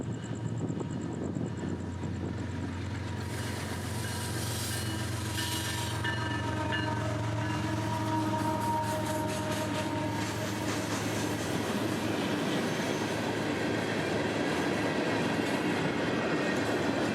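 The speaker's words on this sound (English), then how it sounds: "as trains like L729 roll by on the main line" A freight train rolls past on the main line of the S-Line near Ocala, a loud continuous rumble with rhythmic wheel clatter and occasional squeal, close by and steady throughout.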